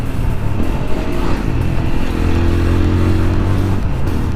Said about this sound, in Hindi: यार चेन बहुत आवाज़ कर रही है